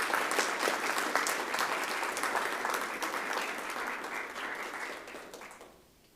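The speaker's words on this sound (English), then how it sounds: "Let's give the Cook Elementary team a hand." Dense applause from the audience at a board of education meeting honours the Cook Elementary team, a steady wash of clapping that holds for several seconds and then fades out.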